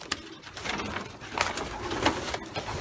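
Pigeons in a loft coo softly and repeatedly, with throaty calls overlapping amid faint rustling and background murmur.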